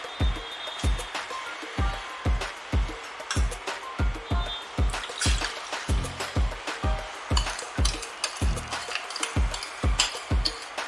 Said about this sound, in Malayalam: ഇനി ഇതിലോട്ട് നമ്മൾ എടുത്തു വെച്ച ഓറഞ്ച് ജ്യൂസ് ഒഴിച്ചു കൊടുക്കാം.